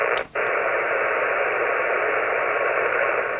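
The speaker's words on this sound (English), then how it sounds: "Now let's switch the noise blanker in on the low threshold setting." Steady hiss of static from an Elecraft radio receiver with the KNB2 noise blanker switched on at the low threshold, a constant band-limited noise broken by a brief dropout near the start.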